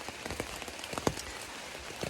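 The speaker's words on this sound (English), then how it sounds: "when I woke up, it was already pouring rain. And it's been pouring ever since." Heavy rain pours steadily onto a surface on the Appalachian Trail, a dense continuous hiss broken by louder individual drops and patters, close and fairly loud with no talking.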